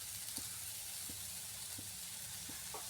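Chopped onion frying in hot oil with a pinch of salt while cooking a prawn curry, a soft steady sizzle and hiss with occasional faint pops, quiet and close.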